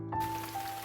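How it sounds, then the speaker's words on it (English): Heavy rain pours down in a steady, dense hiss that starts suddenly and continues evenly, with a faint sustained tone beneath it. "eventually it started pouring"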